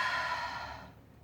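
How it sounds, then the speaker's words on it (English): A single long, deep breath exhaled during yoga, close and clear, fading out over about a second, with no talking. "Few deep breaths."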